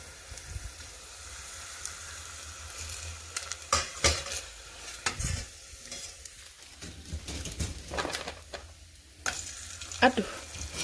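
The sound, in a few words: frying kerupuk crackers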